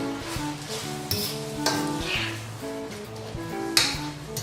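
Parsley stirred through shrimp pasta in a pan, with a steady sizzle under a low background tone and several distinct scraping and clinking knocks from the utensil against the pan.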